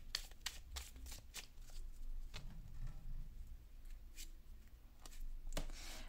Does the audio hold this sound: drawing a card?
yes